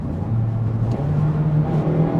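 Honda Civic Type R FL5 engine with the synthetic engine sound switched to Comfort mode, a steady moderate drone holding a low pitch that steps up slightly midway, with no talking.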